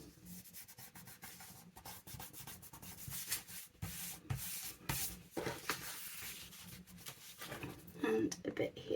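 Glue being run along a paper envelope flap for an envelope notebook, heard as a steady soft rubbing and scraping that continues for the whole span, with a few louder scuffs near the end.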